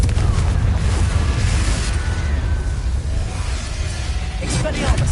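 A Confringo blasting spell explodes in a Harry Potter game: a continuous loud, rumbling boom with dense crackling debris over about five seconds, close and heavy throughout.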